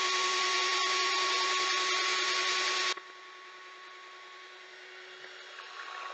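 A power drill spinning while twisting 24-gauge stainless steel and 5mm kanthal ribbon wire into a coil, a loud steady whine that cuts off abruptly halfway, leaving a faint hum and light handling noises.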